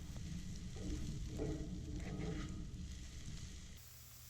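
Scrambled eggs, leftover steak and vegetables sizzle and fry in a cast iron pan on a Weber kettle grill, a steady close frying hiss with faint stirring that drops away near the end.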